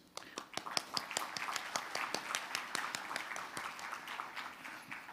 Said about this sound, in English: let's give another big round of applause to welcome our minister onto the stage